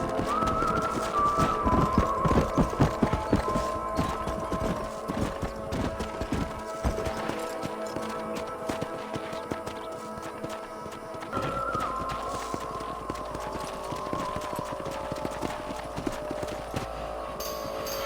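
Galloping horses in the Red Dead Redemption video game, a fast rhythmic clatter of many hooves that is dense at first and then thins, mixed with game ambience and background music, no talking.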